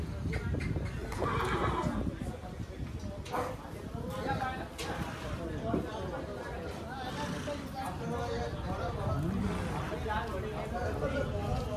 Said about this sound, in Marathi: बघूया कशा प्रकारचे घोडे आलेले आज मार्केटमध्ये